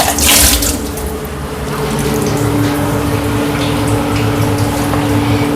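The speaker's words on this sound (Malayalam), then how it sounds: "ഇത് കഴുകി ലേശ വെള്ളം കൂടി ഒഴിക്കാം കേട്ടോ." Water runs steadily from a tap into a pot being rinsed during Kottayam-style tapioca and pork cooking, a close, continuous rushing splash that stays loud throughout with no voices.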